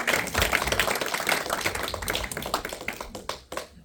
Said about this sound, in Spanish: denle un aplauso al Señor entonces